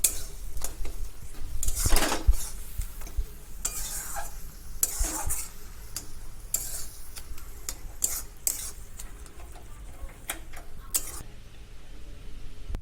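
Apple chutney with cinnamon powder being stirred in a pan, loud bursts of spoon scraping against metal over a low sizzle, close up with irregular strokes.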